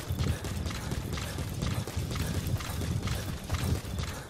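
Horse galloping in the Metal Gear Solid V video game, a steady rhythmic drumming of hoofbeats at an even pace, moderately faint under a broad noisy wash.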